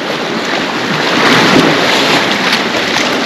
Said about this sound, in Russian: Море классное, спокойное,